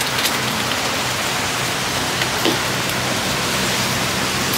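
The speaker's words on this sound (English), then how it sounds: "It wasn't raining by the airport." Rain falling steadily in Houston, a dense, even hiss that stays constant throughout, with no voices.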